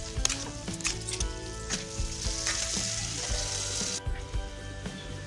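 Paneer bhurji cooks in a pan with a dense, continuous sizzle up close, punctuated by scattered clinks and knocks from the pan and utensil, with no one talking.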